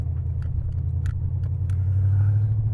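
A 1988 Chevrolet Monte Carlo turning around and driving off, its engine holding a steady low rumble that swells slightly as it pulls away, close and continuous with faint light clicks above.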